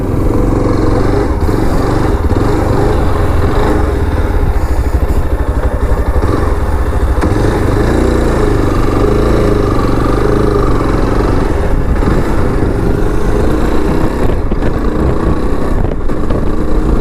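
2025 Yezdi Adventure motorcycle under way in third gear, its engine droning loud and continuous with wind rush, the rumble rising and falling slightly as it pulls.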